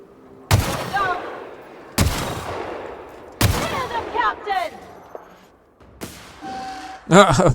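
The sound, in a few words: gunfire from enemies in video game The Outer Worlds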